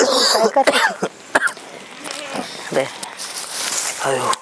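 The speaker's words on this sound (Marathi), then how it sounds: "तिथं खोकत आहेत का" A few sharp coughs burst out near the start, followed by rustling and faint movement; a voice speaks briefly between them.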